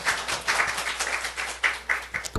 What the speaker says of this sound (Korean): 우리 하나님께 박수를 드립니다